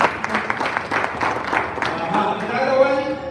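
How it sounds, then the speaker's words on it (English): An audience at a live wellness event gives a big round of hand clapping, dense and continuous for a few seconds, with voices mixed into the crowd noise. "Can you give me a big hand clap?"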